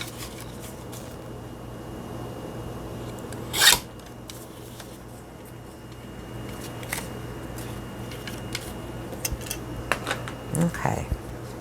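Scissors snip through junk mail paper in short rasping cuts, with a sharp crisp cut early and a few more scraping snips toward the end over a quiet room background.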